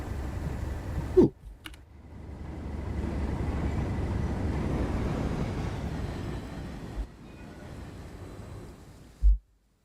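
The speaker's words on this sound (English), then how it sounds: "Tram." A tram in the Train Sim World game on the Fife Circle route rumbles past, rising and fading over several seconds, with a few sharp clicks around it.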